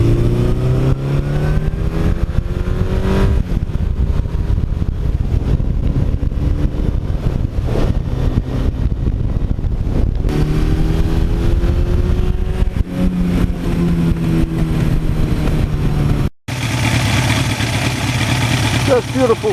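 A 1982 Suzuki GS1100E motorcycle ridden along scenic mountain roads, its engine droning and shifting pitch steadily over buffeting wind noise, with a brief break before the engine note returns louder.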